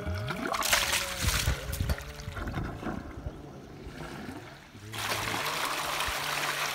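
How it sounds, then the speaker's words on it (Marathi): Water gushes from a pipe into a seven-acre cotton and pigeon pea field, a steady trickling splash that carries on throughout, with a brief lull in the middle before the flow surges louder again. "आता हे पाणी सुरू झालं आहे पराठीला आणि तुरीला"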